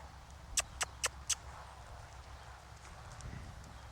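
Four quick, crisp hoof clops from a horse being led on foot, spaced evenly and fairly near, followed by quieter shuffling against a soft background.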